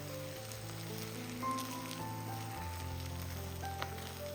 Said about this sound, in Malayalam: ഇനി ഇതുപോലെ മുട്ട ഒന്ന് മിക്സ് ചെയ്ത് ഒന്ന് ചിക്കിയെടുക്കാം.